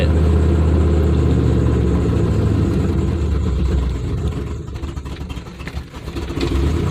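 A truck engine idles through a modified exhaust, a steady low rumble that dips slightly then swells again, loud and close with no talk.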